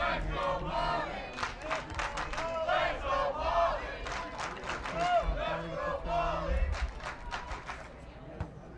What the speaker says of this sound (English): as we can hear the crowd kind of in the background